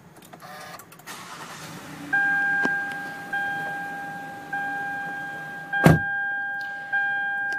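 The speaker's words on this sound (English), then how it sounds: "To start up this Venza, you do have push button ignition." A 2009 Toyota Venza V6 AWD crossover started by push button: chimes and steady electronic tones over a low idle hum, then a brief cranking burst as the engine catches and settles, fairly close, with no talking.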